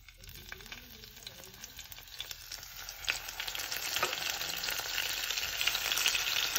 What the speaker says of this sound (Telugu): ఆయిల్ హీట్ అయింది, నేను ఇందులో జీలకర్ర ఆవాలు యాడ్ చేశాను. ఇప్పుడు వంకాయలు యాడ్ చేసుకుందాం.